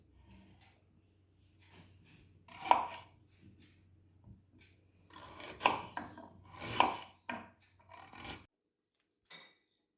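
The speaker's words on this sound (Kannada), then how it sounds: "ಕ್ಯಾರೆಟ್ ಮತ್ತು ಹರಿವೆ ಸೊಪ್ಪು ಹಾಕಿ ಇದನ್ನು ಸಣ್ಣಕ್ಕೆ ಈಗ ಕಟ್ ಮಾಡಿಕೊಳ್ತೇನೆ." Knife chopping carrot and amaranth leaves on a cutting board, a few sharp scattered chops with soft scraping in between, close and fairly quiet.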